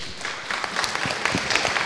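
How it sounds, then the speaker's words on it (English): Applause for a panel at the end of a conference session on land and soil pollution, a brief burst of crowd clapping that swells quickly and holds at moderate strength. "Let's give our panel a round of applause."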